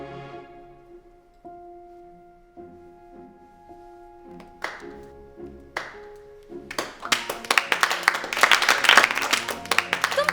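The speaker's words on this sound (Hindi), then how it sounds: "तालियां क्यों बजा रहे हो?" A quiet sustained tone gives way to scattered taps, then a crowd breaks into steady, fairly loud applause that builds toward the end.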